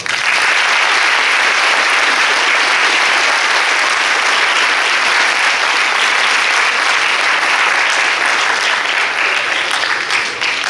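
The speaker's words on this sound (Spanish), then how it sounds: "Lo recibimos con un fuerte aplauso." Loud, sustained applause from a large audience welcomes a guest at a public forum in Culiacán, a dense continuous roar of clapping that holds steady throughout.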